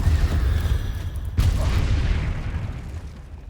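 A Confringo fire spell explodes in Hogwarts Legacy, one deep booming blast with a rumbling tail that fades out over a few seconds, heard alone without talk.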